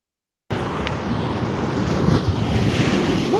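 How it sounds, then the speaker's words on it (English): Ocean surf breaking steadily under strong wind, a dense continuous wash of water with wind buffeting the microphone, loud and unbroken after a brief silent start. "This is the ocean."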